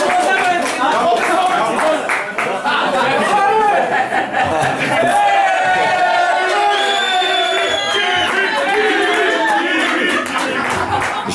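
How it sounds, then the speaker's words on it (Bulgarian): A crowd at an anniversary celebration for a football club claps and cheers loudly and continuously, with shouts and lively chatter mixed throughout. "Аплодисменти!"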